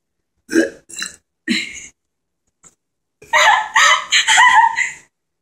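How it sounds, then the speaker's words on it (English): Close, loud burps after eating a hot pepper: a few short croaky bursts, a pause, then a longer drawn-out gurgling belch. "It gets an extra point because it was a hot pepper burp."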